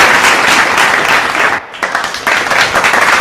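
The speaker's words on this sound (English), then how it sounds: "can we have a bigger round of applause, ladies and gentlemen?" Audience applause at the unveiling of the Pitch Madison Advertising Report 2025, a dense, loud burst of clapping that briefly dips in the middle before swelling again, with a hint of voices mixed in.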